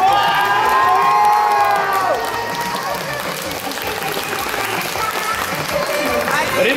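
An audience at a cosplay contest cheers, whoops and shouts, with high excited voices including children's, loudest at the start, dipping briefly, then swelling again toward the end.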